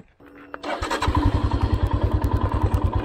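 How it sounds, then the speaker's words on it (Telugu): A motorcycle engine starts and settles into a steady, close, rhythmic putter as the bike rolls down toward the water at Pakhal Lake in Warangal, with a thump at the start and no talk over it. "బైక్ని వాటర్ దాకా తీసుకుపోదాము కొంచెం"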